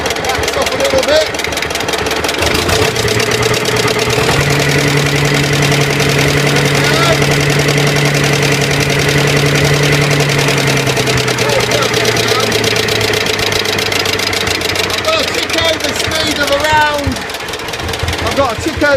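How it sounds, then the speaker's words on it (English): A John Deere BN tractor engine ticks over at a low idle of just over 600 rpm, a steady low-pitched chugging that holds evenly throughout while someone talks over it. "I've got a tick over speed of around just over 600. That's the low idle speed."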